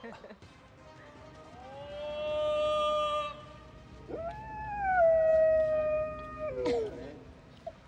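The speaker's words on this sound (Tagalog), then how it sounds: "Ang asong si Harris, lumalaban sa pag-alulong kapag may sumisigaw ng taho." A golden retriever howls in two long, drawn-out wavering notes, the second rising sharply and trailing off into a yip, fairly close and clear, set off by a street vendor's call.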